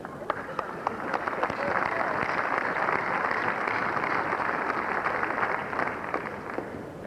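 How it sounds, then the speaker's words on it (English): Delegates at the 1995 Labour Party Conference give a sustained round of applause, dense clapping filling a large hall at an even level for several seconds with no break. "Thank you to my little band of Unison supporters for that spontaneous round of applause."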